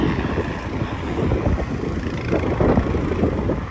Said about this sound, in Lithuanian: Bent vėjuko duoda.